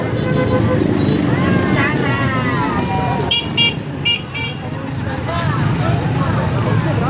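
Steady road traffic rumbles during a street campaign outing, with a few short car horn toots in the middle and people talking over the noise.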